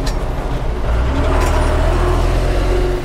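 A car labours uphill in third gear, its engine giving a steady, loud low drone with road rumble that holds constant throughout, with no talking.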